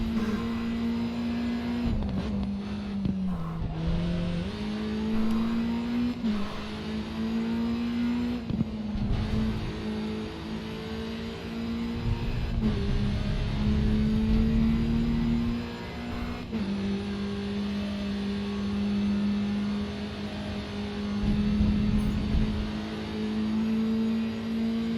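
Race car engines in the racing game Grid 2 drone steadily at high revs throughout, pitch shifting with gear changes and brief dips, loud and continuous with no talking.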